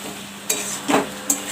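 Chicken curry with fried potatoes being stirred in a frying pan: a steady low sizzle with three distinct scrapes and clinks of a spatula against the pan, no voices.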